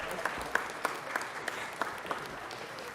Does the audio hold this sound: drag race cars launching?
no